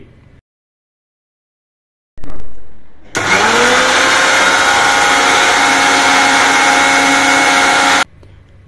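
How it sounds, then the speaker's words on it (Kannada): A brief whir, then a loud, steady high-pitched mixer grinder runs for about five seconds, grinding roasted spices into masala powder, before cutting off abruptly. "ಮಿಶ್ರಣ ಆರಿದ ಮೇಲೆ ಮಿಕ್ಸರ್ ಜಾರ್ಗೆ ಹಾಕಿ"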